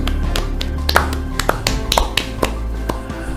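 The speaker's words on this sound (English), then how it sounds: "you deserve an applause." Applause at a law school graduation ceremony, a brief burst of many hands clapping in a reverberant hall, dense and steady with some sharper individual claps standing out.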